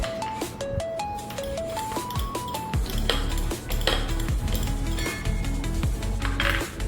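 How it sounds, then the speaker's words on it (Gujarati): Slightly sour buttermilk, thinned with a little water and mixed with two spoons of gram flour for Kathiyawadi kadhi, is whisked with repeated metallic clinks and clatters against the vessel, close up, over background music. "હવે આપણે તેને પ્રોપર જેરી લઈશું"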